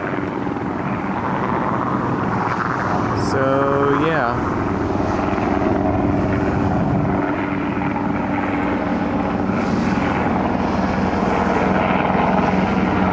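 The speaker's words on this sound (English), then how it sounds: "there's another military helicopter." Military helicopter flying over a beach at Coronado, a continuous rotor and engine drone heard from some distance throughout, with a person speaking briefly over it.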